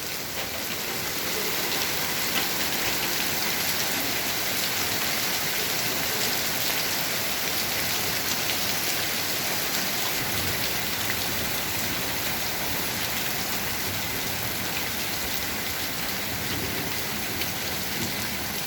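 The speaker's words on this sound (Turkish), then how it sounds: "Evet yağmur o kadar güzel yağıyor ki" Heavy rain pours down steadily, a dense continuous hiss of drops striking surfaces, loud and unbroken throughout with no voices.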